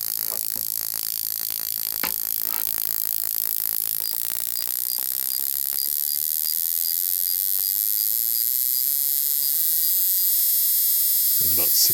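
A rotary engine fitted with surface gap spark plugs runs at about 6,500 RPM, producing a loud, steady, high-pitched buzzing drone throughout with no break or change in pace.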